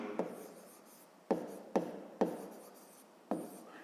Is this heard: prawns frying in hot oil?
no